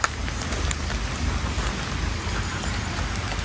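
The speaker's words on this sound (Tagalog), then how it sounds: "Ayan nga, inabot nga tayo ng ulan." Steady rain falls beside a river in the Leyte forest, a dense continuous hiss of drops close by with no voices.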